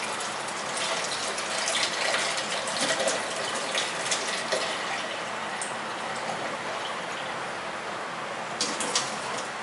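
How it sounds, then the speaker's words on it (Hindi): About half a litre of water pours steadily into black masoor dal simmering in a mud pot, a continuous close gushing splash with no talk. "इसमें मैं तकरीबन ½ लीटर पानी और ऐड करूँगी"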